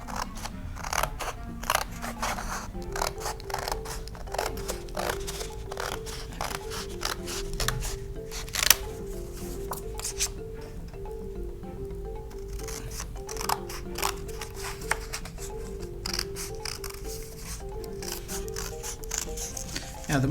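Scissors snip through two stacked sheets of paper together, a dense run of sharp, regular cutting clicks over about twenty seconds, close and steady, with faint voice-like murmur in the background.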